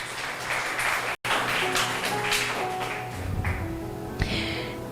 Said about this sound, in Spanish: Denle un fuerte aplauso por la palabra del Señor.